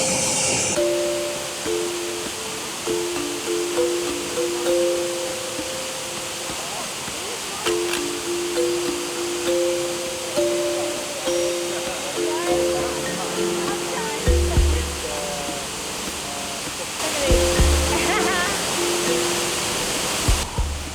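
Jungle waterfall pouring off a cliff on Lombok, a constant heavy rushing roar close by, with wind buffeting at times and a voice talking over it.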